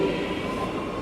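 A passenger train moving off from a station platform, heard as a steady low rumble and hum of the carriage with faint rail noise, continuous and close, with no talk.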